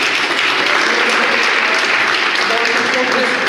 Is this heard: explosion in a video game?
no